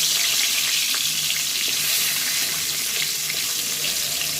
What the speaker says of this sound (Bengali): তেলটা আমার গরম হয়ে গেছে। এর মধ্যে আমি মাছের মাথাটা দিয়ে দিলাম।